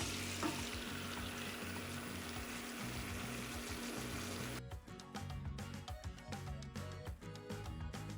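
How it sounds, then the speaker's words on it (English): Shrimp frying in a pan on a home stove for coconut shrimp alfredo: a dense, continuous sizzle that gives way to clattering stirring scrapes against the pan over the crackle. "We are going to fry up the shrimp for 3 to 4 minutes."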